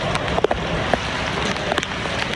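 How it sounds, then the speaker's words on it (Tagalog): Steady heavy rain falls outdoors in Angeles City, a dense continuous hiss of drops hitting surfaces with a few sharper splashes and taps, loud and close, with no talk over it. "Ligo tayo sa ulan hanggang lumagas."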